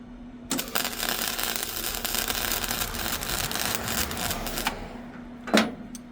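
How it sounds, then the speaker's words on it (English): Metal being welded during work on a truck: a steady, dense crackling buzz lasts about four seconds, then stops, and a single sharp clank follows. "Let me show you guys how to weld."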